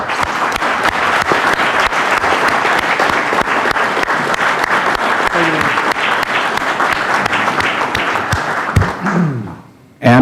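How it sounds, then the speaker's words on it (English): A committee hearing audience gives a sustained round of applause in a hearing room for the chairman, steady dense clapping filling about nine seconds before tapering off sharply near the end. "I wish you would join me in giving him a round of applause."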